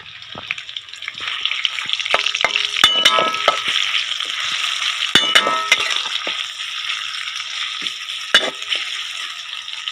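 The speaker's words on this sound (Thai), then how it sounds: "ใส่หมูลงไปแรงๆครับ น่าจะได้สุก" Pork stir-fried hard with chili and garlic in a wok for a soldiers' field meal, a bright, loud sizzle with sharp metallic clangs of the spatula striking the wok every few seconds.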